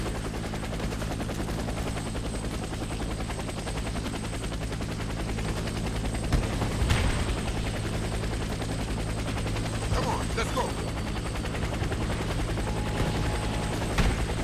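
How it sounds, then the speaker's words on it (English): Steady helicopter rotor drone fills the scene in a Warface battle, with bursts of gunfire and muffled shouting layered over it. "Get to the helicopter for extraction."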